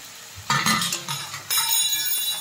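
Fried potato and eggplant tipped into a pan of hot spice paste for a prawn curry, a clatter of pieces landing followed by a bright steady sizzle, close and loud with light utensil clinks.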